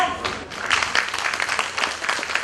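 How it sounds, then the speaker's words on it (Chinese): An audience applauds at a classical Chinese poetry chanting performance, a brief burst of dense, even clapping heard close, with some voices mixed in. "热烈的掌声"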